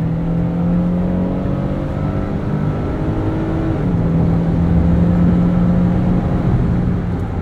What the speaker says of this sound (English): you do need to rev this engine out pretty heavily to get some acceleration out of it.